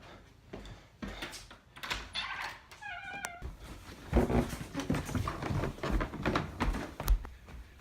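A cat gives a single clear meow amid close-up shuffling, thumps and handling noises.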